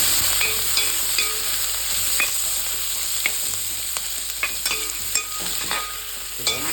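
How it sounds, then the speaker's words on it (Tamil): Onions sautéing in hot oil for a fish curry, a steady bright sizzle with sharp scraping stirs of a spoon against the pan landing every second or so, close and alone without any voices. "பெரிய உள்ளி போட்டு வதக்கும்"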